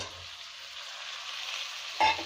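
Soft continuous sizzling in a pan with garlic, ending with a louder brief crackle as fried elephant foot yam pieces are added.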